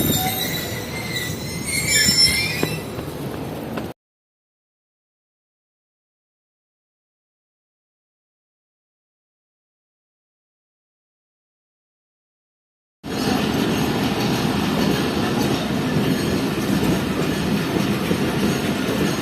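A train departing Karachi station rumbles and rolls along the rails with squealing wheels and steady clatter, cut off by a long stretch of silence before resuming.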